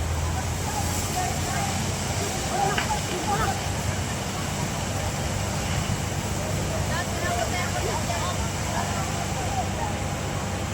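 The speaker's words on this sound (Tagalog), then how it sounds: "Ayun na, kinain na yung bahay. Kinakain na ng apoy." A house fire in Tuy, Batangas roars and crackles continuously, a dense rushing noise with scattered pops, with voices faintly mixed in.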